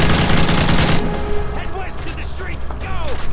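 Automatic gunfire in Call of Duty MW3 starts as a loud, dense burst for about a second, then drops to quieter game sounds while a voice talks over them.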